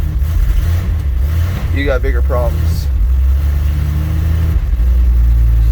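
An old Dodge D100 pickup in the rain runs with a loud, steady low engine rumble, then revs and holds, close by; someone speaks briefly over it.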